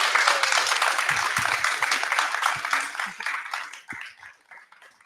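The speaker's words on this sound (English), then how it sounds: "Can we get a big round of applause," An audience at a live Turtle Island Gathering panel applauds, dense steady clapping that holds for a few seconds with a voice or two underneath, then thins and tapers away.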